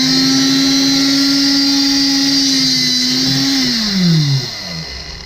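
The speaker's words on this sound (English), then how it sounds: "if you need a rebar cutter. We have this rebar marked already, so we've got a line here. So let's cut this" A rebar cutter slices through a steel rebar rod during a cob house build, a loud continuous motor whine that holds steady, then drops in pitch and slows as it bites through near the end, with no talking.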